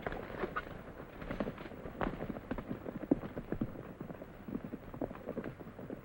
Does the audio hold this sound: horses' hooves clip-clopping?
yes